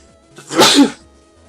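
A single loud, close sneeze bursts out sharply and fades within a second, with quiet surroundings before and after.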